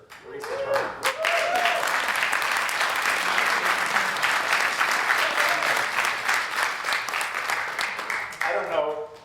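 A room of party members applauds at a state committee meeting, a long, full round of clapping that swells quickly and holds steady, with voices calling out near the start and end.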